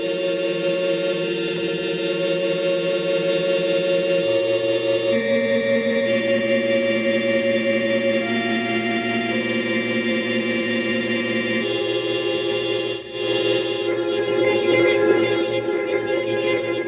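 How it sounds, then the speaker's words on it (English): Granular synthesis patch on an ER-301 sound computer with grain randomness switched off, producing a steady, static layered drone of sustained tones that shift in pitch in stepwise blocks, loud and continuous with no talking. "If I turn off the randomness of the grains, it's a little bit more static."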